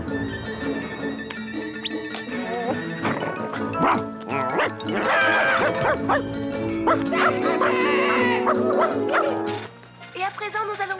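A cartoon dog from a Garfield episode barks in a busy soundtrack, with yips, bow-wows and animated voices mixed with music and effects throughout.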